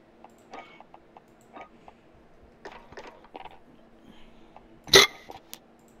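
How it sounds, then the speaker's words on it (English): A single loud hiccup bursts close to the microphone during a Warzone gaming stream, standing out sharply against faint clicks and quiet background noise. "What, my hiccup?"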